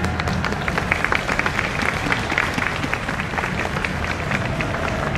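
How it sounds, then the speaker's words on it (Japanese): Steady, dense applause from an outdoor festival crowd in Ginza greets a university wind band, continuous clapping at moderate distance filling the whole stretch without pause. "盛大な拍手でお迎えください"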